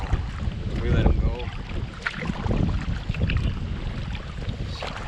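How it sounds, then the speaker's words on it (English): A kayak paddles into the wind on the Connecticut River, with wind buffeting the microphone and faint water splashes from the paddle strokes throughout, and a voice speaking briefly. "Paddling into the wind now, paddling into the wind."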